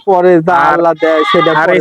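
A loud, close goat bleats several times in quick succession on a goat farm, each call wavering and nasal, with no other sound between the cries.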